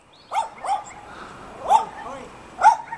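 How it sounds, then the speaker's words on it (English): A dog barks several times, with short sharp barks and yips spaced across a few seconds, fairly close against a quiet indoor background. "It's a dog."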